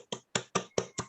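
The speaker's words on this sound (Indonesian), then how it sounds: "tepuk tangan semuanya" A classroom of students claps together in five distinct bursts, each sharp and short, the clapping fairly close and clear with silent gaps between.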